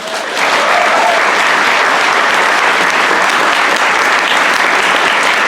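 A large audience breaks into loud, sustained applause, a dense wash of clapping that holds steady throughout.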